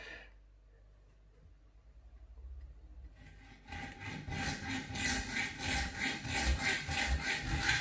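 Hand sawing through an aluminium pole for a motorised blind kit, starting after a few quiet seconds and then settling into a steady, close back-and-forth stroke rhythm with no talking.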